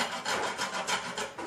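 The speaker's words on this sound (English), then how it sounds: "First take the grater and remove the skin of this." A grater rasps rhythmically across the skin of a dry coconut in quick, close, steady scraping strokes with no voices.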